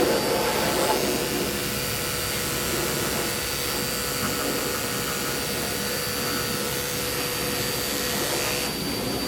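Electric clippers shaving matted fur on a Pomeranian during grooming, a steady loud buzzing drone that holds for the whole stretch with no talking over it.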